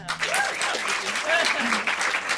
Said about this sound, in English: another round of applause for my beautiful, beautiful guitarist, Melissa Daughtry